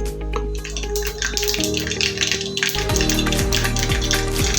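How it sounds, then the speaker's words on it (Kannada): Mustard seeds hit a spoonful of hot ghee in a pan, making a loud, dense crackling sizzle that continues steadily throughout, with no talking. "ತುಪ್ಪ ಬಿಸಿಯಾಗಿದೆ ಒಂದು ಚಮಚ ಸಾಸಿವೆನೂ ಹಾಕೊಳ್ತಾ ಇದ್ದೀನಿ"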